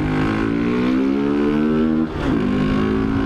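A motorcycle engine runs steadily at high revs, loud and close, with a brief dip and change in pitch partway through, and no voices over it.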